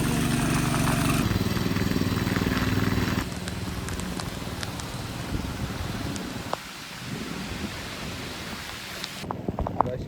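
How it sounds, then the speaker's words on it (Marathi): Heavy rain pours onto a ploughed field in a dense, steady hiss, loudest at first and then easing slightly, with scattered nearby drips and taps over the downpour. "बट पावस पळया कितें पडटा तो, बेश पडटा."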